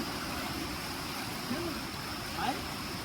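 A cold, snow-fed river flows past a jungle riverside in a steady, soft rush, with a couple of brief faint chirpy sounds rising over the water.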